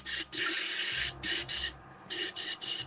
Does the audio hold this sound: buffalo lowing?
no